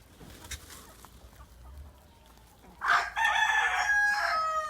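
A rooster crows loudly and close by, with chickens clucking around it in a backyard coop at afternoon feeding time. Scratching and soft clucks come first, then the long crow rises clearly and stays loud to the end.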